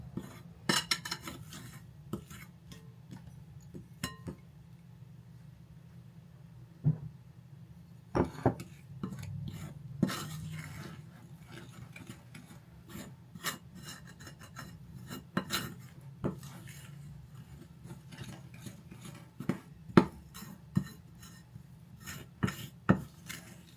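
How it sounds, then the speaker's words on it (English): A utensil scrapes around the sides of a mixing bowl of oatmeal brownie cookie dough in repeated short scrapes and clinks, close and fairly quiet, with no voices. "Scrape along the sides of the bowl"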